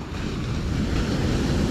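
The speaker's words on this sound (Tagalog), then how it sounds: "Grabe pala mga kulog ang alon." Big ocean waves crash and roar in a continuous loud surge, with heavy wind buffeting the microphone and no voices.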